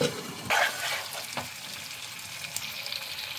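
Boiled meat frying and being stirred in a pan as it is browned (kosha) for Kolkata-style biryani: a steady, moderately quiet sizzle with a few brief scraping stir sounds early on and no talking.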